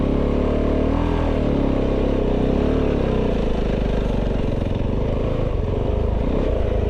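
A Kove 450 Rally motorcycle climbs a small hill on a trail, its engine droning loud and close with shifting revs as the rider works the clutch, continuous and without speech.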